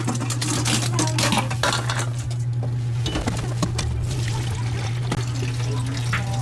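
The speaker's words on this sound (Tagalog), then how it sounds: "Banlawan ko lang ilang ulit para mawala yung alat." Water pours and trickles through a strainer over grated jicama during rinsing, a steady close splashing with faint clinks of the strainer against a pot, alongside a constant low hum in the background, no one talking.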